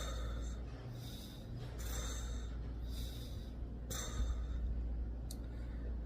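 A person demonstrates the pursed-lip breathing seen in COPD patients, imitating it with several forceful, breathy exhalations spaced a second or so apart, close and fairly quiet, with no talking.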